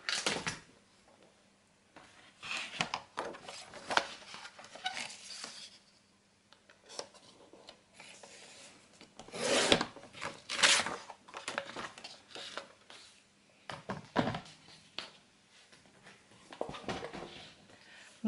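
Scissors cut through paper while a scrapbook album is being made, giving scattered snips and rustling handling sounds in irregular bursts, close and fairly quiet, with pauses between cuts.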